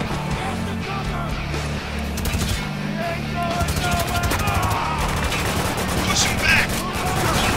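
Gunfire crackles through an open firefight in Spec Ops: The Line, dense bursts of rapid shots and automatic fire layered over a rumbling battle bed for several seconds.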